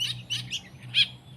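Pet songbird chirping in short bright bursts, four or five quick calls spaced through the moment with one louder chirp near the end, over a steady low hum.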